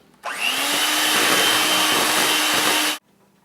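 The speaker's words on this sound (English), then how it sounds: "Just going to mix the sugar and butter together." An electric mixer whirs steadily as it beats butter and powdered sugar together, a loud continuous motor drone with a sharp start and stop.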